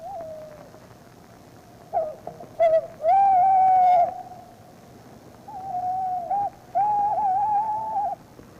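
Tawny owls hooting at night, several wavering hoots and longer tremulous calls in two clusters, clear and fairly close against a quiet, steady background.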